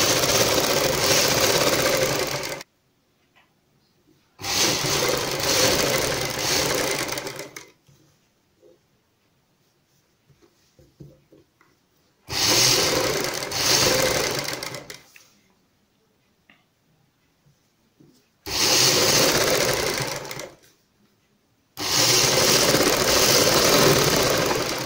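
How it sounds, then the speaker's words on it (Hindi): A sewing machine stitching kameez kali panels runs in four or five loud, steady whirring bursts of a few seconds each, separated by near-silent pauses. "दूसरी साइड में भी हम इसी तरीके से सिलाई लगाएंगे।"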